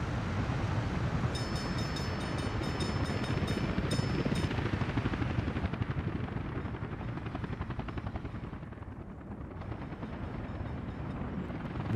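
Dense, steady rumble and clatter of many trains running through a busy rail network in the Workers & Resources city-building game, loud and continuous with a faint high tonal layer early on, no talking.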